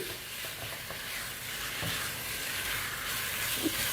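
Soft, steady sizzle of chicken frying in a non-stick pan, a gentle hiss with a few light taps and scrapes.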